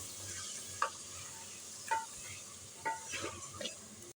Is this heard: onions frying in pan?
yes